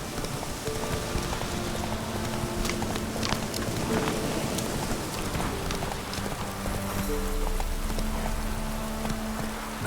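Horse hooves of Roach, Geralt's horse in The Witcher 3, clopping in an irregular gait amid steady rain-like ambient noise, fairly close and moderately loud throughout.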